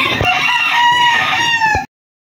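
A rooster crows in a small backyard gamefowl breeding farm, giving a single loud, close, drawn-out cock-a-doodle-doo that cuts off abruptly into silence.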